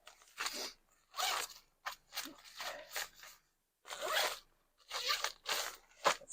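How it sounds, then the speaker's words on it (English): Dress zipper being drawn in several short, scratchy bursts with brief pauses between them, close and fairly quiet. "There's another zipper back here."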